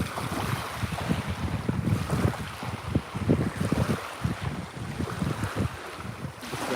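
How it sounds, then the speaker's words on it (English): Water rushes and laps steadily along the James River, mixed with gusty wind buffeting the microphone, a continuous close wash with no talk. "you've got the waves here"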